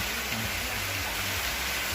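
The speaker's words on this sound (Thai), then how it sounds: "เนี่ยฝนตก ฝนตกอย่างหนักเลย" Heavy rain pours steadily at a Thai temple cave city gate, a dense, even hiss that fills the whole clip with no break or gap.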